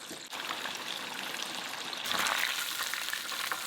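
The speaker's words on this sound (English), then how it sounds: "Deep fry until golden brown for about 3 minutes, and turn them frequently so that they brown evenly." Shrimp spring rolls with scallions deep frying in hot oil, a dense continuous bubbling sizzle that swells slightly louder partway through, close and steady, with no talking.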